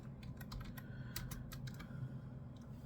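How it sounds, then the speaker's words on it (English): Quick, light typing on a computer keyboard, a rapid irregular run of soft clicks close by over a quiet room hum. "I've got my computer right in front of me, so I'm just going to quickly type it in."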